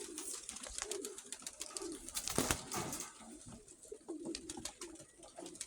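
A pet hen pigeon, speckled and restless, perched on a shelf in a loft, gives soft repeated coos and murmurs close by, with other birds fluttering and calling around it.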